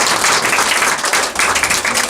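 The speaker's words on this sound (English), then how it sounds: "Let's give them a round of applause." Steady applause from a crowd, dense clapping that holds at a fairly loud level throughout with a brief dip near the end.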